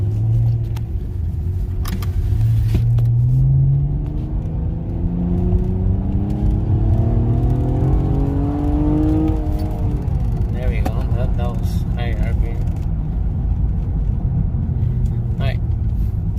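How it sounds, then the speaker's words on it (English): A 2014 Honda Accord J35 V6 fitted with a K&N drop-in air filter revs up smoothly with a rising intake whistle, then settles back to idle; someone talks over the engine throughout. "you can definitely hear the air, more air being sucked in, right? So you hear that whistle, like it sounds cool"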